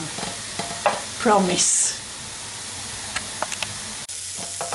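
Mushrooms cook in butter in a pan, a steady soft sizzle with a few light stirring taps, broken briefly by a short spoken word.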